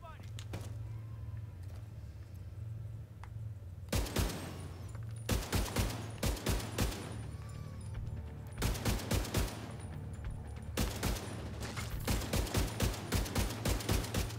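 Bursts of gunfire in The Division 2, firing in repeated volleys of rapid shots with a steady low hum underneath, loud and close, some bursts longer than others.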